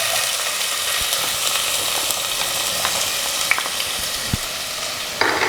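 Chopped onion and green chili sautéing in hot coconut oil for a homemade vegetable samosa filling, a steady close crackling sizzle with soft scraping stirs and a few louder clicks near the end, no talking.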